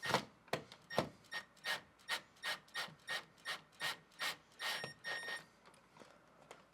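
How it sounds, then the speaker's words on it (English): Nuts are tightened by hand while mounting a ceiling fan against drywall, producing a faint, even run of about a dozen rasping ratchet strokes, each a short scrape at a steady pace, heard alone. "now I can go ahead and tighten down on the nuts till I feel it hit the drywall"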